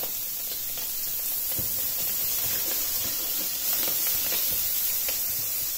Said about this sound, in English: I'm going to put the butter in on that side and on that side.